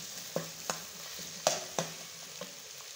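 Garlic and ginger brown in oil in a handi, giving a soft, even sizzle with a few crisp clinks of a stirring spoon against the pot, quiet and close.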